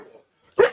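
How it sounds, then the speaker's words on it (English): One sharp bark from a large puppy, close and loud, follows a brief low grumble and silence. "I have very large puppies, and yeah, like I said, they are quite vocal."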